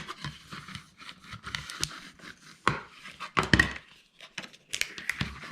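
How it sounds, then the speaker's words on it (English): A big spatula presses and rubs over folded paper flaps on a handmade paper mini book bag, making soft scraping strokes with a few sharper taps scattered across the passes. "We're going to fold them over, and I'll get them stuck using my handy dandy big old spatula."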